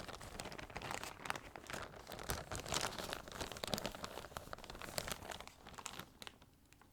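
Very crinkly plastic shopping-haul packaging gets handled close up, giving continuous soft crackling and rustling with small sharper crinkles throughout, quiet and without speech.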